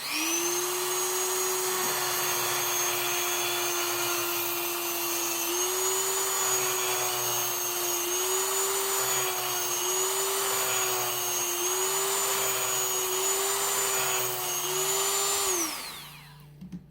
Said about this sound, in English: I'll take my Dremel tool here. Let's get pretty noisy.